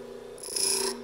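A drill bit is sharpened on a bench grinder: a brief, hissing rasp of steel against the wheel rises over the grinder's steady motor hum for about half a second.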